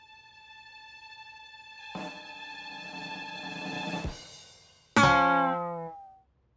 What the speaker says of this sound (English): a guitar player plays guitar and would sound like this on the guitar.